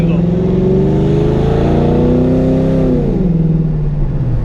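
A Ford Crown Victoria engine with an airflow fault revs hard and loud near its limit, holding a strained rising drone before dropping back, with speech partly underneath.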